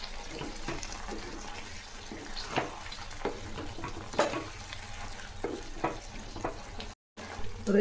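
Mint and asafoetida for a spicy pudina chutney sizzle steadily in a pan, with soft scraping stirs over a continuous low frying hiss heard up close.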